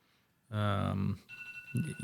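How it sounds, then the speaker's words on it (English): A mobile phone rings out with a loud, bright electronic tone in a studio setting. The burst lasts about a second, then fainter ringing tones follow, and a voice is heard near the end. "Someone's got his phone on."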